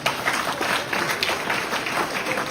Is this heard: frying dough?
no